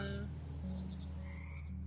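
Frogs croak continuously in the game Mudborne, a dense, steady chorus of low throaty calls layered over a constant background drone.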